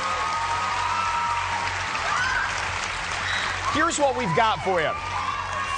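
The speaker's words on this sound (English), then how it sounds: "450 screaming fans you've been hearing from so far this evening" A studio audience of about 450 fans at a televised singing competition cheers and screams in a broad, steady roar, with a host talking over it and a few sharp whoops rising near the end.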